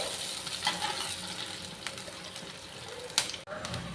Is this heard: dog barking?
no